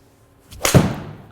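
A single crisp, sharp impact of a Honma TW-X golf iron striking a ball, close and loud, followed by a brief fading whoosh.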